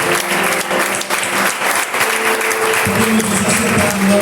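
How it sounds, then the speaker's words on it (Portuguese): A church congregation applauds during an evening communion service, a loud, dense, sustained wash of clapping from many people filling the room, with some voices mixed in. "Então dê uma salva de palmas para o Senhor."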